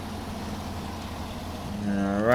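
Heavy truck in SnowRunner grinding through mud, a steady low engine drone that swells near the end as the revs climb with a rising whine.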